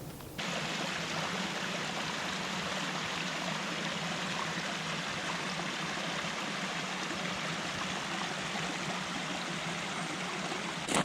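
A creek runs swollen after a night of heavy rain, a steady broadband rush of flowing water that holds constant and fairly close, with no voices.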